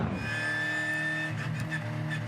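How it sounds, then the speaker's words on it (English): Race cars roll slowly down pit straight at Albert Park behind the safety car, their engines holding a steady, moderately loud tonal drone with rising whine for a couple of seconds. "Still under the control of the safety car as the cars roll down pit straight at Albert Park"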